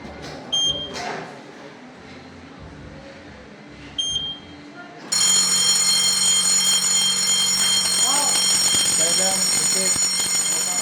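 A smoke detector's shrill, steady high-pitched alarm tone blares continuously and loudly after a few brief beeps, with faint voices underneath.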